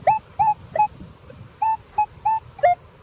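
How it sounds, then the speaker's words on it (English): A Minelab Equinox metal detector sounds seven short, even tone beeps in quick succession over an in-ground silver coin target, fairly loud and clear, with faint outdoor rustle underneath and no talk. "Man, that sounds like a silver dime or quarter."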